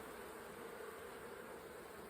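Honeybees drone steadily around a lifted hive frame during a swarm inspection, a faint, continuous hum of many wings close by with no talking.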